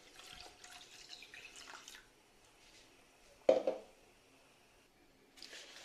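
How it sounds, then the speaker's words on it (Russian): Leftover water is poured out for an orchid growing medium, giving soft running and trickling water, then a single sharper splash or drip partway through, with more trickling at the end. "Выливаем оставшуюся воду."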